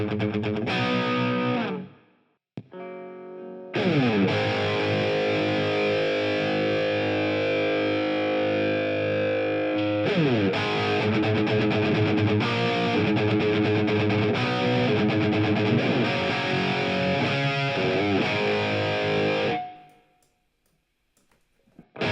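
Heavily distorted electric guitar chords and riffs through an amp plugin ring out loud and sustained, with short pauses near the start and a fade to silence at the end.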